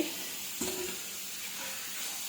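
About 1.5 kg of mutton frying in spiced oil for mutton kosha, a continuous bright sizzle and hiss with a brief clatter early on as the meat goes in, close and moderately quiet.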